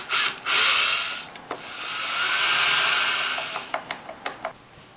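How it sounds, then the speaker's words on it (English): A power driver whirs in two bursts as a screw is driven into wood for a small wooden chest, followed by a few sharp ratcheting clicks. "and then I put the other screw in"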